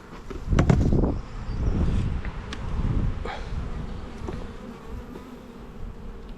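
Honey bees swarm around the hives in an apiary during a spring inspection, with dandelions in bloom, giving a close, dense, continuous buzz with a few louder bursts near the start.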